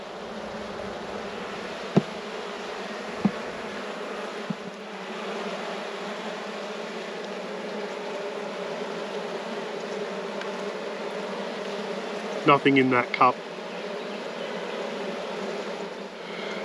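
Honey bees from a rescue hive hum in a steady, close drone that lasts throughout, with a few brief knocks and a short spoken phrase partway through.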